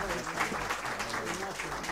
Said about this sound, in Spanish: Sí, un aplauso, por favor.